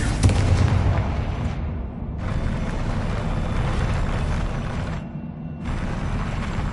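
Confringo fire blast spells in the video game Hogwarts Legacy erupt as loud, dense booming bursts that fill the scene, with two brief lulls between sustained explosive roars.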